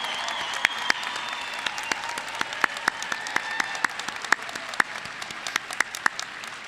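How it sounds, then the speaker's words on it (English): A graduation audience at Rose Academy applauds grandparents in a steady round of clapping, with a few sharp, close individual claps standing out above the even crowd sound throughout. "allow us to honor you with our applause"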